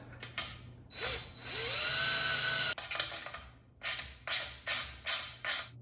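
Clamps being tightened on an Akrapovic exhaust heat shield on a 2025 Ducati Panigale V4, with close bursts of power-tool whirring followed by a run of sharp, rhythmic ratcheting clicks.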